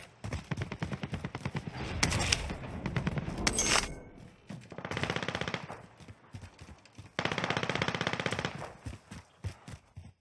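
Rapid automatic gunfire trades back and forth in a Warzone match, long dense bursts separated by shorter single shots and footsteps, loud and close with no talk over it.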